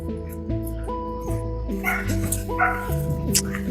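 A dog on a rural cattle-herding outing barks and yips in quick repeated bursts, with a steady low drone underneath and people talking nearby.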